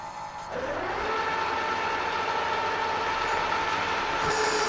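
A milling machine takes a 30 thou cut on a Bridgeport quill extension at about 510 RPM, producing a steady close cutting whine that starts after a brief quieter moment and holds level to the end.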